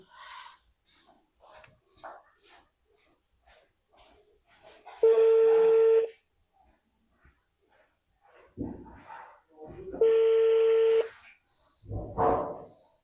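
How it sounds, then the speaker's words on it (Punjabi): A telephone call rings through: two long, steady ringing tones about five seconds apart, clear and loud, with brief breathy voice sounds and quiet gaps between them. "ਵੀਰ ਆਪਣੇ ਨੂੰ ਮੈਂ ਲਾਉਣੀ ਫੋਨ ਹੁਣ"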